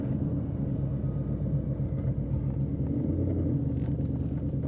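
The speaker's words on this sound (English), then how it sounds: "Okay, I'm down into second gear." Ford Mustang RTR engine pulling in second gear, a steady low rumbling drone at moderate level with no distinct rise in pitch, heard alone without voices.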